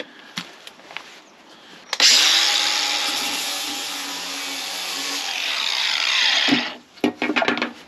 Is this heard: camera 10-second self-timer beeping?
no